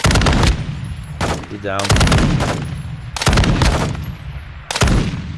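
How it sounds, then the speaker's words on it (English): Rapid automatic gunfire in Call of Duty: Modern Warfare II on the Sa'id map, loud close bursts repeating in several separated volleys, with brief talk between them. "Taking enemy fire!"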